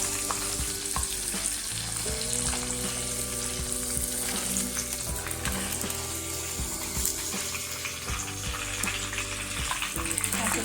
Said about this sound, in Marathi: कोळंबी अशी थोडीशी फ्राय करून घ्यायची म्हणजे शिजते पटकन आणि रब्बर सारखी होत नाही